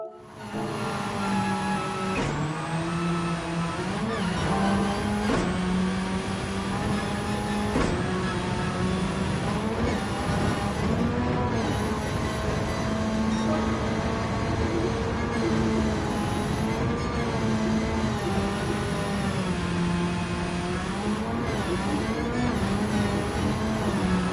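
A rally car engine drones and revs as the car pulls forward on a race course, pitch rising and dipping through repeated gear changes, loud and steady throughout.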